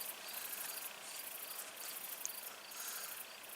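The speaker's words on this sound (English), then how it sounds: "can you guys hear the cicada?" A cicada at dusk in Escalante Canyon, Utah, gives a faint, continuous high buzzing trill with slight pulsing, steady throughout in quiet outdoor surroundings.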